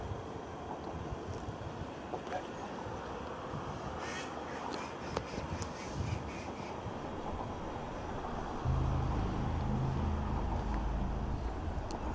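Ducks quack faintly in the distance over steady wind noise, the calls scattered and irregular across an outdoor scene.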